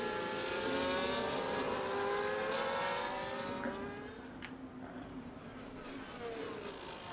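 Formula race cars in the video game F1 24 droning along at speed, engine whines rising and falling in steady tones that fade slightly midway, continuous and fairly loud.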